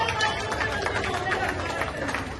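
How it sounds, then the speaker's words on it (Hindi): A big crowd at a Balaghat public rally held by the Chief Minister claps hard and fast in a dense, unbroken roar, with chatter and voices mixed in. "सभी जोरदार तालियों से दोनों हाथ ऊपर उठाकर"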